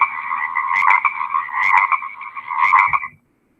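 A frog croaks in a steady, throbbing trill, close and loud, with a few brief pulses before stopping abruptly near the end.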